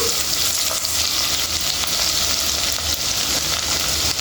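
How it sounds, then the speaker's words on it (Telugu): Ingredients for tomato egg curry fry in a pan with a loud, continuous close-up sizzle, crackling steadily throughout. "ఇది పచ్చివాసన పోయే వరకు వేపుకోవాలండి"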